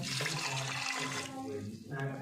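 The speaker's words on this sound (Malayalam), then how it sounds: "നമുക്ക് ഇതിലേക്ക് ആവശ്യത്തിന് വെള്ളം ഒഴിച്ച് കൊടുക്കാം കേട്ടോ." Water pours into a cooking pot for a dried prawn curry in a home kitchen, a short splashing run that tapers off, with a voice speaking over it.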